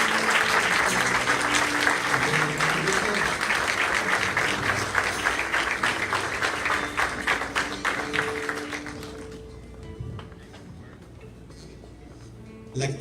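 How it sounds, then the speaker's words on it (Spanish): A church congregation applauds loudly and continuously for about nine seconds, many hands clapping together in a dense wash, before it fades and leaves a quieter room with faint sounds. "Denle palmas al Señor y los hermanos"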